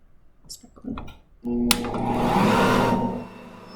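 Ankarsrum stand mixer pushing pasta dough through a spaghetti attachment, a steady motor whir that starts abruptly after a few clicks and handling noises and runs for a couple of seconds before easing off.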